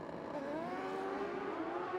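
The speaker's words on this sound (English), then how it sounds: "it looks like the horsepower of the Suzuki in the far lane for Frederick" Pro Stock drag bikes, including a Suzuki in the far lane, launching off the start line at a European drag racing event, a steady loud engine roar with rising pitch throughout, heard from a distance.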